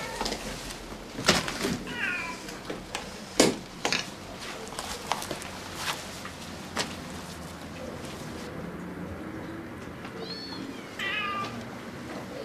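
Several cats meowing indoors in a house full of cats, with separate rising and falling cries spread over the stretch, some nearer and louder, along with scattered soft clatters and background noise.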